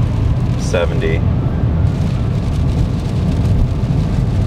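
Heavy rain drums on a car windscreen while a wiper sweeps, steady and loud from start to end, with someone talking over it as the car moves at highway speed.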